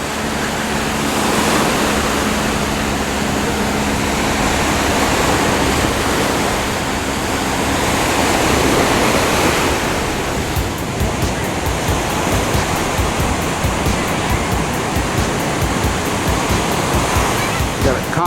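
Ocean surf at Newport Beach with large waves, a loud continuous wash of breaking water that swells and recedes in broad surges, close and enveloping, with no talk over it.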